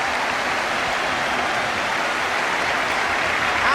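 A large football crowd at a 1977/78 Spurs v Bristol Rovers Division match applauds at the final whistle, a dense, steady roar of clapping that holds at full strength throughout.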